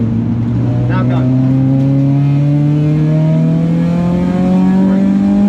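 A rented race car accelerates along a track, its engine tone climbing steadily in a loud, sustained run, with a coaching voice talking over it.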